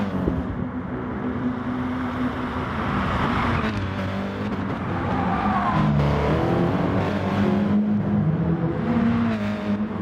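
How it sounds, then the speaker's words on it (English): Audi TT race cars lap the Nordschleife in a racing video game, their engines howling and shifting pitch as several cars rev, brake and pass close together in a continuous dense roar. "watching the TTs fly through there, loading up the right hand side tyres"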